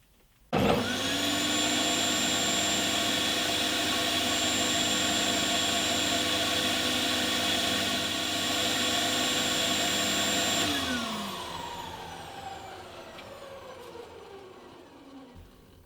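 A homemade drum sander fitted with sandpaper starts up with a sudden loud whirring roar and holds at steady speed. It then shuts off and winds down, with the hum fading over several seconds.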